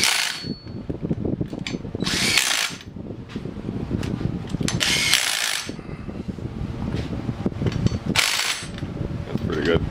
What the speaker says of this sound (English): I know this gun's about 22 foot-pounds when I torque it down